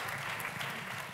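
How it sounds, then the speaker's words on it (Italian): Steady, dense applause fills a short film festival award ceremony, continuous clapping from a sizeable audience with no pauses, close and fairly loud throughout. "Ancora un applauso a Gramigna!"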